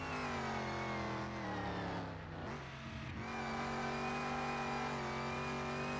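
Dodge Charger engine in the game Car Mechanic Simulator, a sustained high-pitched whine layered over a steady droning hum, dipping briefly in pitch and level midway before returning, loud and continuous with no talk.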